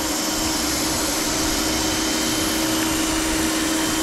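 A crankshaft grinder regrinds the crankshaft of a 1.8-litre MGB engine with a steady, loud, continuous whine and hum that stays the same all the way through, with no talking.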